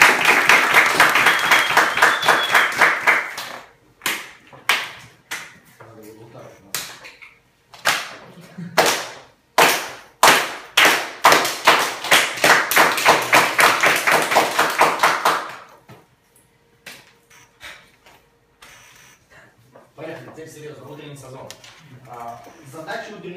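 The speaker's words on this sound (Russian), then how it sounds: "Давайте похлопаем," An audience breaks into sustained group applause, loud and dense at first, then thinning into scattered irregular claps that fade out, with a voice speaking briefly afterward.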